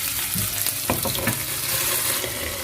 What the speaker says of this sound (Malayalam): ഇനി ഇതിൻ്റെ ഈ സൈഡും കൂടി നമുക്ക് കുറച്ച് നേരം മൂടി വെച്ചിട്ട് ഫ്രൈ ചെയ്തെടുക്കാം